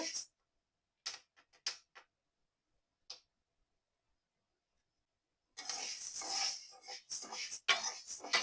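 Lentils dry-roasting in a pan give a few scattered, sharp pops and ticks at first. After a short quiet spell they break into a dense, steady crackle that fills the rest of the time, close and fairly soft.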